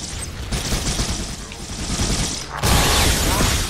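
Rapid bursts of gunfire and explosions in Halo: Combat Evolved, dense and loud, with a heavier blast about two-thirds through that keeps the noise high to the end.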